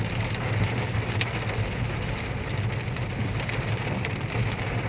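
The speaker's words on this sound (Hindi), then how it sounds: "काफ़ी तेज़ बारिश हो रही है" Heavy rain pours steadily onto a storm-damaged road lined with uprooted trees, a dense continuous hiss with low rumbling underneath and no voices.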